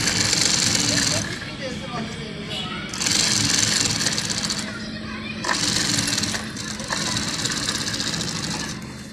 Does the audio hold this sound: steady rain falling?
no